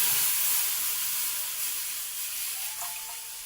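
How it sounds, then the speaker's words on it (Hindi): Milk pouring into a cooking pan in a home kitchen, a soft continuous hissing splash, faint and steady throughout with no talking. "अब ये मैंने एक पैन लिया है और पैन में मैं इसमें तकरीबन 2 कप दूध शामिल करूंगी।"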